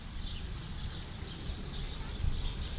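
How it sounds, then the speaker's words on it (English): Birds twitter in a tree-lined town square in Napier, New Zealand: faint, continuous high chirping over a low outdoor rumble of distant traffic and wind, heard at a distance with no voices. "you can hear the birds twittering away"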